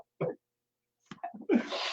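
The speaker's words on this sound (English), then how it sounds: "Oh, I was holding that sneeze so bad." A single person sneezes close to the microphone, with a short sharp inhale, a pause, a few catching breaths building up, then an explosive burst of the sneeze itself.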